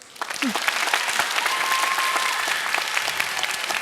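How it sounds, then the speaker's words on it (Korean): Lecture audience applause at the close of a televised career talk builds quickly and holds as dense, even clapping from a large crowd, with a brief voice near the start. "도움이 됐다면 다시 한번 박수"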